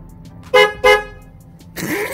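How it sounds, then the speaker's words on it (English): Two short, loud Jeep Wrangler JK horn beeps in quick succession, then a brief mechanical whir; close by with no voices. "You should hear a horn beep pretty quickly as soon as this gets plugged in."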